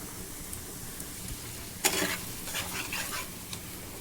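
Tomato paste added to frying masala for rohu kalia, raising a sudden burst of sizzle and spatter over a low steady fry, then settling into softer crackling with occasional stirring clinks.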